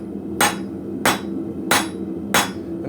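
A blacksmith hammers a long, narrow taper into old car spring steel, four sharp ringing blows landing at an even, unhurried pace, close and loud over a low background hum.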